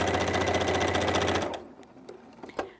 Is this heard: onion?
no